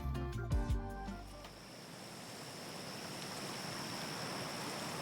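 Water from a small simulated river in a terrarium rushes steadily, a soft continuous wash that follows a brief burst of musical tones at the start.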